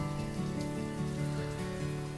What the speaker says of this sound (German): Regen ist eigentlich auch gar nicht so schlecht für unsere Ernte dann nachher.